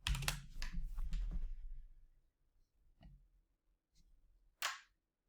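Computer keyboard typing in quiet surroundings: a dense burst of clicking keystrokes for about two seconds, then a few isolated taps and one louder click near the end.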